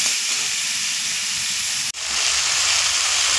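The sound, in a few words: spice paste sizzling while sautéed in a pan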